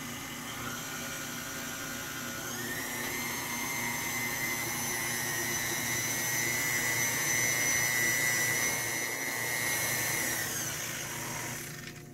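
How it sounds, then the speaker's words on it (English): A stand mixer runs on low speed while mixing dough ingredients with olive oil, giving a steady close motor whine with a tonal hum that rises slightly and holds for the whole stretch. "I'm going to go ahead and turn my mixer on to low speed"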